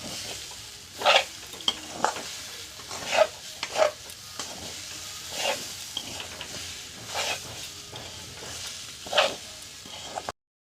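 Rice and mixed vegetables for khichuri are fried and stirred in a pot, with a soft steady sizzle and irregular scraping strokes of a spoon against the metal, close and fairly quiet.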